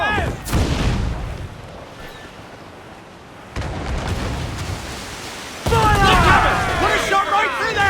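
Ship cannons booming in an Assassin's Creed 4 Black Flag naval battle: three heavy broadband blasts spaced a few seconds apart, each trailing off into rumbling noise, close and loud, with shouting crew voices.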